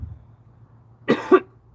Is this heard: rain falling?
no